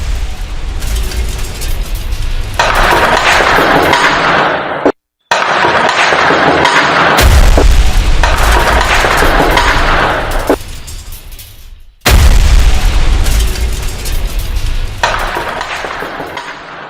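A bomb blast in Khuzdar, Balochistan, recorded as a loud, roaring, distorted burst of explosive noise. Several long surging segments are split by brief cuts to silence.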